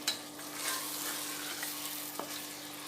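A steady crackling sizzle of tomatoes and spices frying in a pan, with a couple of light clinks from stirring, close and continuous.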